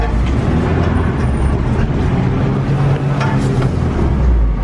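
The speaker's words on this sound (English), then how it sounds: "James just did a burnout up his driveway while I was sitting there watching." A JDM car from a cheap barn find does a burnout up a driveway, a loud, steady roar of revving engine and spinning tyres that holds without a break.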